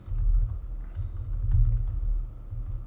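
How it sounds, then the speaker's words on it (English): Steady typing on a computer keyboard, a close, continuous patter of key clicks with slight bursts and pauses, and no voices. "and now I could type"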